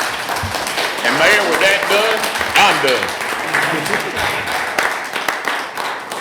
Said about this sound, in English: I ask you to give applause to my colleagues on this board who made this happen